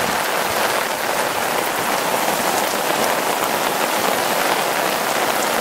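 Heavy rain pours steadily at an outdoor fishing spot, a dense, loud, unbroken hiss of drops striking surfaces with no pauses or other sounds.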